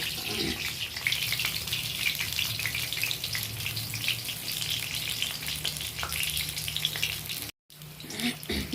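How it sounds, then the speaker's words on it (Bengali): Whole peeled pointed gourd (potol) frying in hot oil, a dense, steady sizzle close by that runs throughout, with a brief dropout near the end. "পটল গোটা গোটা খোসা ছাড়িয়ে তারপরে দেখো তেলে ভেজে নিচ্ছি"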